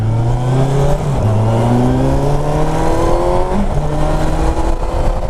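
A Kawasaki Versys 1000 LT motorcycle engine pulls under light throttle, its tone rising steadily through the gears with one shift partway, loud and close over constant wind rush.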